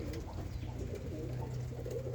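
Roller pigeons cooing, soft low repeated coos against a dense, noisy background murmur, moderately near.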